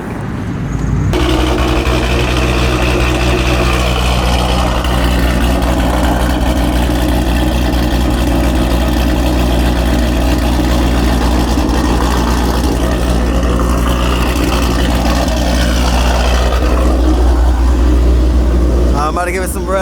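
A cammed Ford Mustang GT500 fitted with a Corsa Xtreme exhaust idles loud and steady, with a deep, lumpy rumble heard from close by and no talking.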